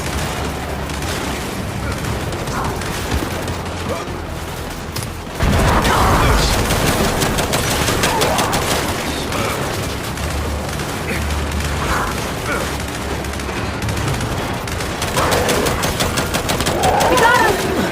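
Turret gunfire in the Gears 5 video game: loud, sustained rapid automatic bursts with booming impacts, growing heavier partway through and continuing unbroken to the end.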